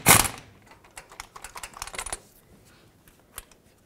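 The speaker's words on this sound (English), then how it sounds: "Now let's finish tightening this bottom one." A wrench snugs down a bolt during a clutch kit install on a 2006-2011 Honda Civic, giving a loud opening click and then a quick run of light, close metallic ratchet clicks that taper off, with one more click near the end.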